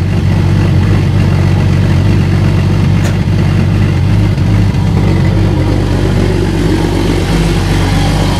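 A Jeep engine runs steadily after being repaired, a loud, close, low idling rumble that holds for several seconds with no talk.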